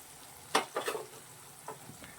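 Soya chunk masala filling is stirred and sautéed in a pan, giving a few quick scraping, sizzling strokes close by and then a quieter fry, with no voices.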